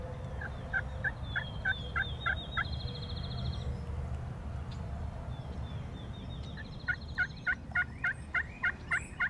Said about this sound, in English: there's one gobbling further out across the field now